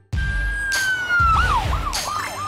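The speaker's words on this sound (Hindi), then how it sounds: "पुलिस की गाड़ी।" A loud police car siren in a children's cartoon set at a car wash, starting with a steady high tone that slides down, then breaking into rapid rising-and-falling wails punctuated by bursts of noise.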